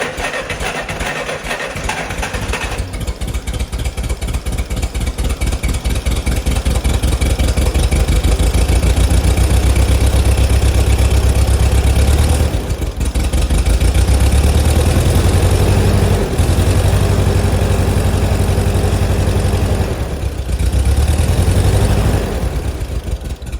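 A Green White fork truck's LP engine idles roughly and close by, a steady mechanical chug whose revs surge and dip unevenly, with brief drops and recoveries throughout.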